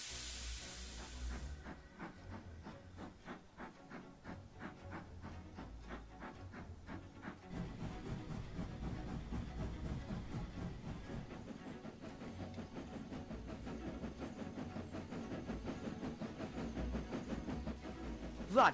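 Rapid hissing chuffs from Edward the steam engine in a video game as his wheels slip and spin at high speed, a fast steady exhaust beat with broadband steam hiss continuing throughout.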